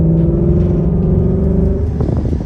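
A 2019 Ford Mustang GT drives along with a loud, steady low engine drone heard from inside the car, the pitch shifting slightly near the end.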